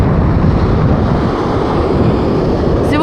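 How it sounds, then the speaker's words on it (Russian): Stormy Sea of Azov at Shchastlyvtseve: loud, continuous crashing surf and roaring wind buffet the microphone in a dense, unbroken wash of noise. "Море сегодня шторм вообще."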